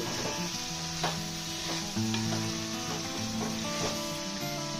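Chicken pieces are frying in a clay pot with a loud, steady sizzle close up, while a spoon scrapes and stirs through them at a regular pace.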